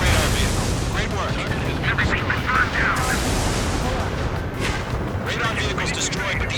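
Railgun fire in the Ace Combat 7 video game, loud continuous rumbling blasts and booms layered with roaring jet and combat noise, with voices talking over the din.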